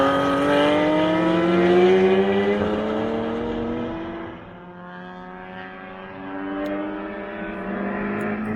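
A race car's engine roars past at speed on Thunderhill track, its pitch shifting as it accelerates and fades, then another engine note builds again.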